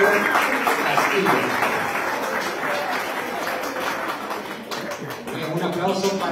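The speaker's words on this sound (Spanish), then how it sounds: "Aplauso para todas ellas" Applause at a school anniversary event greets the pageant finalists: a crowd claps with some audible taps and light chuckles, while an announcer talks over much of the clapping.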